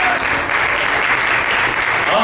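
A church congregation applauds steadily for the full stretch, a dense close wash of many hands with some voices mixed in and a brief cheer rising near the end.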